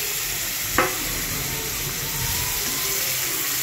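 Whole spices such as bay leaf, cardamom, cloves and cinnamon fry in white oil in a kadai wok, giving a continuous close sizzle with one brief clatter early on.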